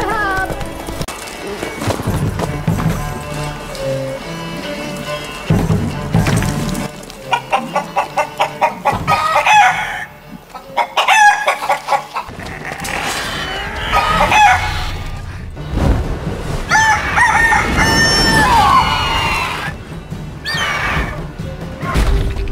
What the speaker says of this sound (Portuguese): Esses frangos transgênicos estão cada vez maiores!